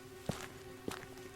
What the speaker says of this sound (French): Il entendit des bruits de pas courir près de lui